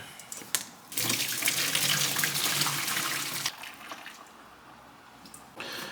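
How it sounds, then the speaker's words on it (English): Water from cooked sweet potatoes pours out into a kitchen sink in a steady rushing stream for a few seconds, then eases to a trickle before a brief splash returns. "it's time to drain the sweet potato."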